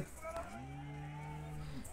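A water buffalo at the Sunday buffalo market in Erragadda gives one long, low lowing moo, clear and moderately near against a quiet background murmur.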